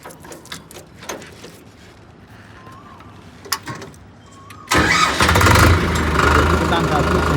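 A Farmtrac 6055 4x4 tractor cranks and fires into a loud, steady diesel idle after several seconds of quiet clicks and faint background noise, with someone talking over it.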